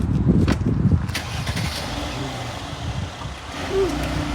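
A car engine starts and idles as the car backs away and leaves, a low steady motor rumble with some brief knocks and a voice near the start.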